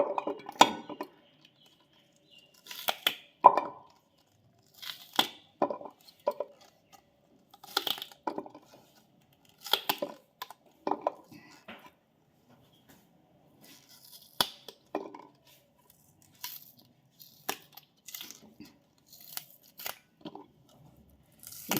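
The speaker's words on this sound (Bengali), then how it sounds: "এইভাবে আমি পেঁয়াজ কলিগুলো কেটে নিচ্ছি" Knife chopping onion flower stalks into small pieces on a board, sounding as repeated close, crisp cuts in short bursts with brief pauses between.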